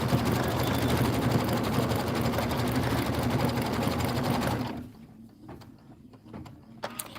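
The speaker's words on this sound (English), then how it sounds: "This is 4 minutes of stitching." Domestic sewing machine stitching fabric for a Christmas wall quilt, a steady dense mechanical whir running continuously for several seconds before stopping, leaving faint room noise and a few small clicks.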